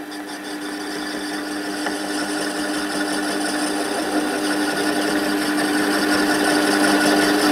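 A metal flywheel for a model electromagnet steam engine is slowly machined down, a steady continuous whirring cut with a constant tone that grows slightly louder, close and without talk.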